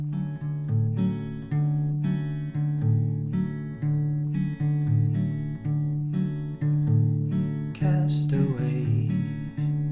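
An acoustic guitar plays a song intro from The Backyardigans slowly, with repeated plucked and strummed chords in a steady, even rhythm, ending in a brighter strum near the close.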